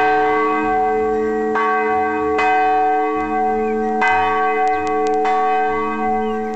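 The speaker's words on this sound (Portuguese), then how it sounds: "é o responsável por ainda bater o sino das 2 igrejas da comunidade" A community church bell struck by hand, ringing loud and close with a strike roughly every second, each clang leaving a long humming resonance beneath the next.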